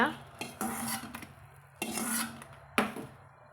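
Chillies and peanuts being sautéed in oil in a pan, with a few close, distinct scraping and stirring strokes of a utensil against the pan over a faint sizzle, without any talking.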